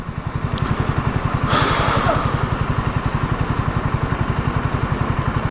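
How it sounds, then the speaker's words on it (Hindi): Motorbikes on a mountain road on the Dharchula to Nabi route near Adi Kailash pass close by, a rapid, even low thumping engine beat that rises slightly in the middle and holds steady throughout. "यहाँ से हमारी बाइक सब निकल जाएंगी आराम से।"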